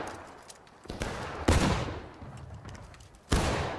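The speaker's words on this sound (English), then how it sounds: "Last volley!" Musket volleys in the Civil War video game War of Rights: a sharp volley near 1.5 seconds and another near 3.3 seconds, with scattered distant shots and rumbling battlefield noise in between.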